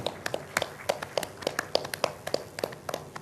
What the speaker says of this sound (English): Let's have a loud round of applause for Mr. Shah Rukh Khan.